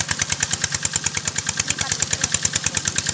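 An engine-driven water pump drains a fish pond beside a roadside, its small motor chugging in a steady, fast pulsing rhythm, close and fairly loud with no talking.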